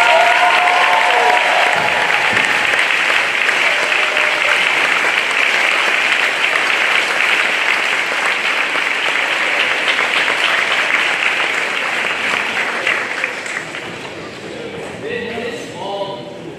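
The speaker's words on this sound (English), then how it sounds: "for a big round of applause." An audience at a middle school spring concert breaks into sustained applause, a dense wash of clapping that stays loud for most of the stretch and then thins and fades toward the end.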